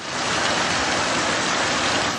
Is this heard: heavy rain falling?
yes